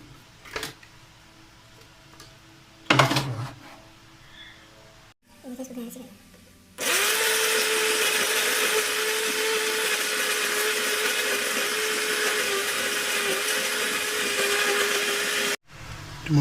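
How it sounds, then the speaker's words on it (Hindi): An electric grinder purees tomatoes for masala for chicken tikka karahi. A few brief bursts and some speech come first, then a loud, continuous high whirring runs for about nine seconds before cutting off abruptly. "ये जो टमाटर हैं उनको हमने ग्राइंड कर लेना है"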